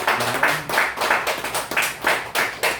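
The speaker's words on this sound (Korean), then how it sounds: "여러분 우리 주님 앞에 우리 감사의 박수 올립니다." A Korean Full Gospel church congregation clapping together in thanks after a prayer, a roughly steady run of close, rhythmic hand claps about three times a second, with a faint voice heard early on.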